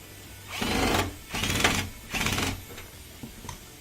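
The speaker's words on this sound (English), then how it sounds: "And while that's filling, testing the fill and the agitation" An LG front-loading washer, opened up for a drain-fault repair, runs its fill and agitation cycle: three bursts of rhythmic whirring and churning about a second long each, close by and fairly loud, then a quieter tail of clicks.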